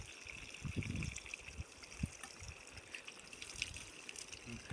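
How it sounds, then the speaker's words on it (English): Water poured from a sponge during a lion's bath, a soft continuous trickle and splash heard faintly throughout, with a few louder splashes. "I'm gonna get this sponge, gonna pour it on the water."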